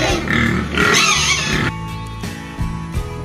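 Pigs on a pig farm grunt loudly and up close, a couple of rough snorting bursts followed by quieter grunts over a busy barn background.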